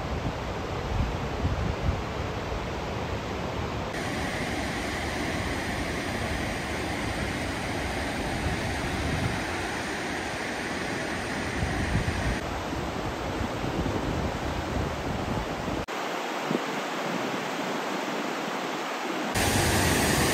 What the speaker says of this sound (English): look at that white water.